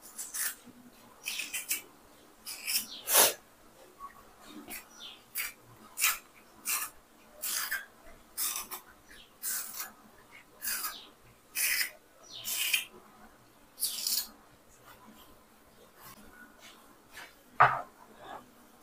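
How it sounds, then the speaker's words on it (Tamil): A knife chops banana flowers into small pieces on a board, a long run of crisp, evenly spaced cuts close by, with no talking. "ஒரு 4 வாழைப்பூவை இந்த மாதிரி சின்ன சின்ன பீஸா நான் கட் பண்ணிக்கிறேன்"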